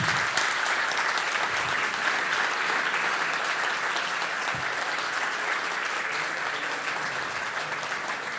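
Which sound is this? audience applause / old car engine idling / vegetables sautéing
audience applause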